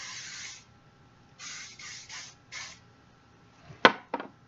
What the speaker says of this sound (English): Just kind of spray it down, pull it up a little bit to get the curls under